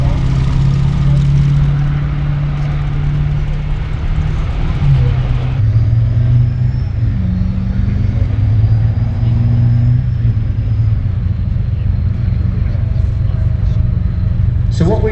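British Army reconnaissance vehicles drive past at a Tank Fest demonstration, a loud continuous engine rumble and drone that shifts in pitch as they move. A voice is heard over it.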